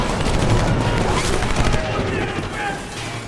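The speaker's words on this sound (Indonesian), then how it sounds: "Doc yang berusaha keluar lalu terpaksa menembak para polisi." Film gunfire during a police tactical squad raid on a drug factory, a dense continuous fusillade of shots and bursts, loud and sustained throughout, with a voice faintly mixed in.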